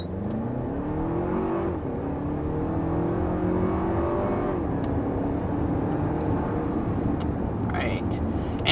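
Lexus RX 350 with turbocharged four-cylinder and 8-speed automatic accelerating, its engine note rising steadily and dropping at upshifts, heard from inside the cabin at moderate level with a person talking over it.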